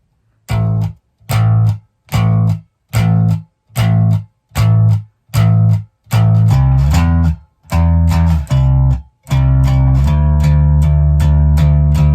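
A bass guitar plays a line of evenly spaced plucked notes, then shifts into a busier rhythm with sustained low notes, loud and close.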